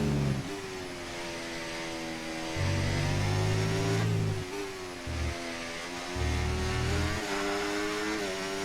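Formula 1 racing car engine in F1 24 on a wet lap of the Austrian GP, a loud continuous high-pitched whine climbing and dropping through gear changes, with low rumbling bursts as it brakes and accelerates.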